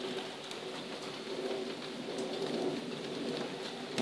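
Steady rain falls outdoors during a lantern release, a dense even hiss of drops on surfaces that holds at a constant moderate level throughout, with faint bird calls mixed in.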